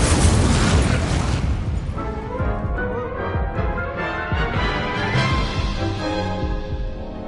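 Incendio fire spell cast in the Hogwarts Legacy video game, a loud sustained burst of roaring, crackling flame that starts strong and gradually thins into rumbling, with no talk over it.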